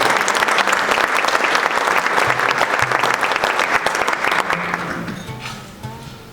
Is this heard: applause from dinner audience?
yes